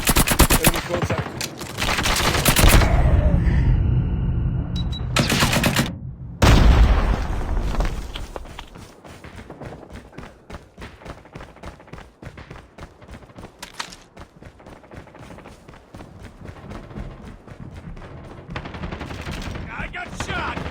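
A nail gun weapon in Call of Duty Mobile fires rapid, loud bursts, starting with a heavy barrage and booming hits, then continuing as a steady stream of quicker shots, with game voices now and then.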